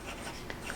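A Kakimori steel dip nib loaded with Pelikan Edelstein Rose Quartz ink scratches briefly across paper, soft and close in a short stroke.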